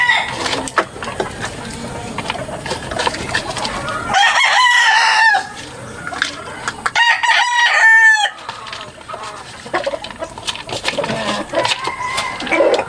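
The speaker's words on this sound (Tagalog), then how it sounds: "Tignan nyo guys kung gaano kagana kumain yung mga manok natin" Chickens cluck and squawk busily close by while eating at feeding time, with a brief rooster-like call in the middle and steady scratchy farmyard noise throughout.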